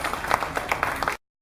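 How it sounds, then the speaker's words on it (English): Audience applause breaks out at a glass blowing demonstration, a short burst of close, lively clapping that stops abruptly. "big round of applause to Eric C for a really beautiful fluted base."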